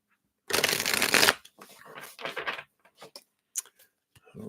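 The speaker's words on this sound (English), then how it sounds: "Let me just shuffle these up." A deck of tarot cards being shuffled up close: one long riffling whoosh, then several shorter rustling shuffles and a few soft taps and flicks of cards, with no voice over it.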